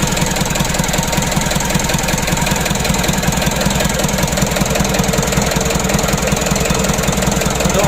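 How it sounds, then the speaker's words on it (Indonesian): A rebuilt 136 HDL engine, just started after overheating, idles steadily and loudly up close with a continuous knocking, rumbling beat and no voices. "Untuk mesinnya sudah hidup."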